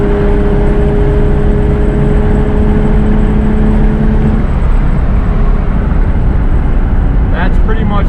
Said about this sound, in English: That's pretty much like full throttle.